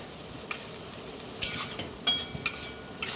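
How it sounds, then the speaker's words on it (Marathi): Chopped onion frying in a pan for ragda pattice, a soft continuous sizzle broken by several bright scrapes and taps of a spatula against the pan, close and fairly quiet. "कांदा फ्राय होत आलाय"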